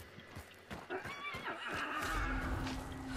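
A horse in the video game Hunt: Showdown whinnies and snorts over clip-clopping hooves, fairly quiet and set back in a low ambient game soundscape.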